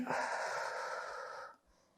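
A long, steady exhale pushed out during a Pilates abdominal exercise, a broad breathy rush lasting about a second and a half, close and fairly loud, then fading to near silence.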